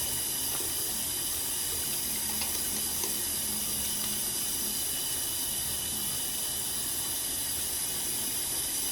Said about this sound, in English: Now I'm going to put soap on my hands, and then I'm going to wash my hands.